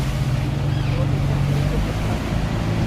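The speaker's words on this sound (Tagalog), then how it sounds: "malalaki ang alon" Big open-sea waves wash and churn around a boat far out on the ocean, a steady broadband rush with a low engine-like drone beneath, loud and continuous without pause.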